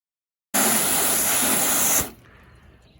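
Water sprays steadily onto a car treated with a Mother's CMX ceramic spray coat, a loud continuous hiss of about a second and a half that cuts off sharply, leaving a faint trickle and drip.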